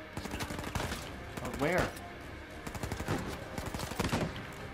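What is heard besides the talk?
sniper gunfire in the video game Uncharted 4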